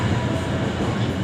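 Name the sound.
Walahar local train, Cikarang–Purwakarta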